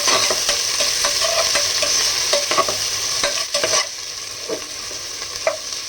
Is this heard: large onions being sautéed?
yes